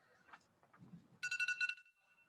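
A mobile phone ringtone at a gala plays a short burst of bright repeated electronic tones after a few faint knocks and rustles, moderately loud in a quiet room.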